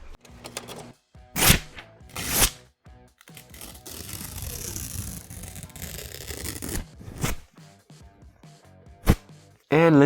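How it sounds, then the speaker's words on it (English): A sheet of paper is torn apart in several rips, with sharp bursts followed by a longer, rustling tear and some handling noise in between, close up and with no one talking. "Okay, let's do rips."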